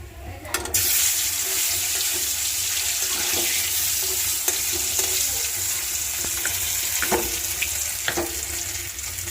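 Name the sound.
fish frying in hot oil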